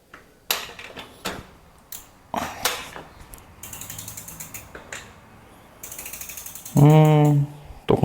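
Rear wheel of a 24-speed bicycle being installed, its freewheel ratchet clicking in short irregular bursts of close, crisp ticks, ending with a brief metallic creak.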